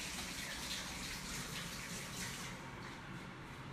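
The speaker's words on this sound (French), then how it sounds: "pour enlever ces petites particules là, vous la passez sous l'eau" New potatoes rinsed under a running kitchen tap, a steady broadband rush of water splashing continuously and evenly throughout, fairly close with no talk.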